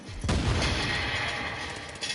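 Grenade explosion in The Division, a sharp loud blast that rolls into a long, rumbling decay, with a smaller burst of gunfire near the end.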